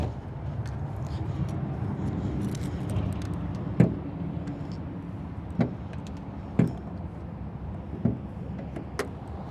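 The hood release of a 2026 Winnebago EKKO 22A on an all-wheel-drive Ford Transit chassis with a 3.5-liter EcoBoost gives a series of sharp clicks and clunks over a low, steady background rumble.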